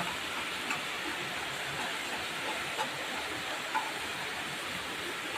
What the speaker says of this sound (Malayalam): നല്ല തകർത്ത് മഴ പെയ്യുക കേട്ടോ പുറത്ത്